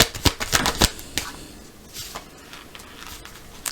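Oracle cards being shuffled by hand, several quick crisp riffling bursts up close, then softer, slower shuffling rustles, with no talk.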